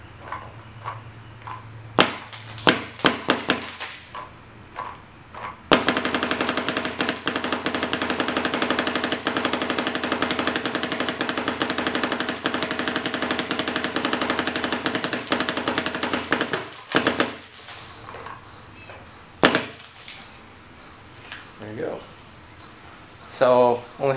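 Rapid burst of paintball shots from a Planet Eclipse Geo 2 marker fed by a Virtue Spire loader, a dense continuous string of pops lasting about ten seconds, with scattered single shots and brief talk before and after.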